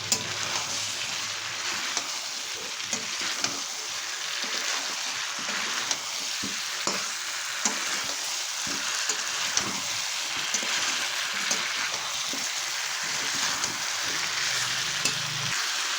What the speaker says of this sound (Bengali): আলু ফুলকপিটা দিয়ে একটু কষিয়ে নেবো